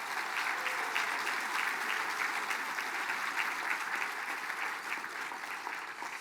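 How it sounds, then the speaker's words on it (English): Audience applause at a Mille Lacs Band of Ojibwe gathering, a steady sustained round of clapping from a large crowd lasting throughout, even and continuous with no talk over it. "So let's give them one more round of applause,"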